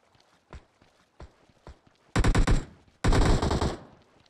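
Gunfire in the mobile battle-royale game PUBG Mobile: a few scattered single shots, then two loud dense bursts of automatic fire, close and punchy.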